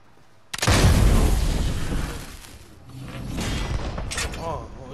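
A cannon fires in the video game Fortnite with a sudden loud boom, then a sustained rumbling, mechanical roar that dips and swells again over several seconds. Faint voices mix in near the end.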